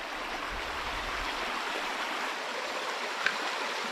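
A small stream of running water along a forest hiking trail in New Zealand, a steady close rush and babble continuing alone without pause.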